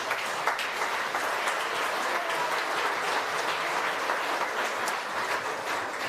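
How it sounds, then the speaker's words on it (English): Sustained audience applause at a national architecture awards ceremony, a dense steady wash of many hands clapping for the sponsors, holding an even level throughout with no voices rising above it. "Please give all of the sponsors a round of applause."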